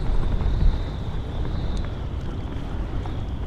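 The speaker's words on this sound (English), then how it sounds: "The wind." Wind blows steadily on a fishing boat out at sea, a loud continuous buffeting roar with rushing noise across the microphone and no speech.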